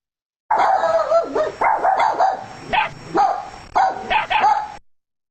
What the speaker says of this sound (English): The dogs began yapping as we ran.